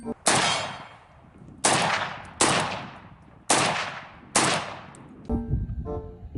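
A plastic toy Groza gun fires five loud, sharp bangs at roughly one-second intervals, each with a ringing metallic tail, followed by a rattling mechanical clatter.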